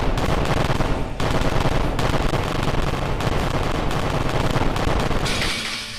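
Turrets fire in rapid continuous bursts in Kerbal Space Program, a loud dense rattle of gunfire with brief pauses between volleys, then a sudden change to a hissing, fading tone at the end.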